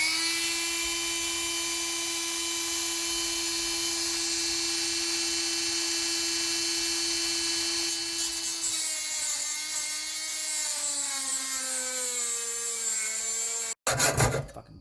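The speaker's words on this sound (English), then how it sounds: "so we're just going to chop off some threads here" A power tool cutting off the threads of a crooked bolt during a header install on a 2018 Mustang 5.0, a loud steady high-pitched whine that drops in pitch as it bogs into the metal, then stops abruptly.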